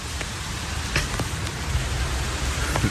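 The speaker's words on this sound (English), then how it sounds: "let's go outside and stand in the rain" Rain falling outdoors as a steady broadband hiss with scattered sharper drop taps, fairly loud and constant throughout, no voices.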